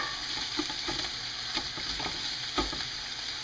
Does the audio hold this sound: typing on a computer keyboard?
no